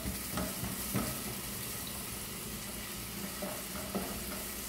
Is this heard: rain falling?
no